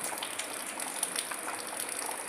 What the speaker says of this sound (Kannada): ಜೋರು ಮಳೆ ಅಲ್ವಾ